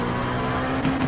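Race car engine in iRacing during IMSA Daytona 24 practice, buzzing at high revs against the rev limiter in sixth gear, a loud, steady, close drone.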